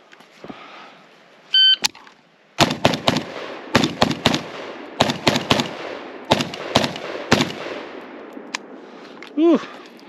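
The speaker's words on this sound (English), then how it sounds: "next up is gonna be the flamethrower, this mini Draco here. Should be interesting. It's super duper loud." A Mini Draco pistol fires in rapid strings on an outdoor steel target range, loud sharp close reports in quick bursts with short pauses between, after a couple of electronic timer beeps.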